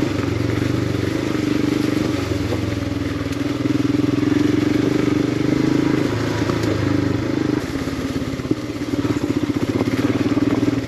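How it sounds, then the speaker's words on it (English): A Royal Enfield Himalayan motorcycle engine drones steadily and close on a rocky mountain trail, with continuous clatter and scraping of tires over big rocks throughout, no talk. "This is the kind of riding I like"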